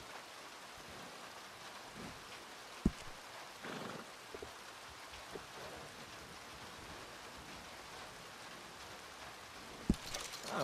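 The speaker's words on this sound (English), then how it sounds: "Even horses don't like it when it rains like this." Steady heavy rain in Red Dead Redemption II, a constant wash of falling water with a few faint knocks and thuds scattered through it.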